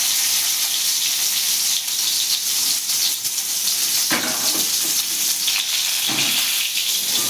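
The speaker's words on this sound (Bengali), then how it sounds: "গ্যাসটা কমিয়ে কমিয়ে ভাজবেন" Bitter gourd frying in oil in a pan on a gas stove, a steady loud sizzle with bright crackle that runs throughout, with brief stirring and spatter bursts near the middle and end.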